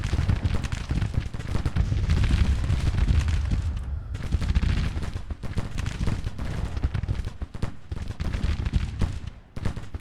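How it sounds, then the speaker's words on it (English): Artillery bombardment in the Civil War strategy game Grand Tactician, a dense, continuous barrage of booming cannon fire and crackling musketry, loud and sustained with brief lulls. "I'm going to turn that into a bombardment zone"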